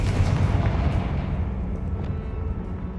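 A Confringo fire spell blast in the Hogwarts Legacy video game, a heavy, dense rumbling boom that fills the clip and slowly fades, loud and close, with no talk.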